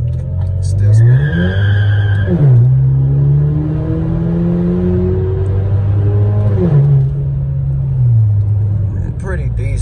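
A boosted Buick launches with its tires spinning, giving a loud engine drone that climbs and falls through several shifts and revs, with squealing wheelspin close by and voices talking over it.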